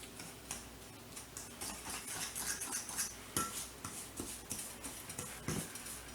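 A fork stirring and creaming butter, white sugar and cocoa in a bowl for fudge pie, giving quick, light clicking and scraping taps in an irregular rhythm, close and fairly soft.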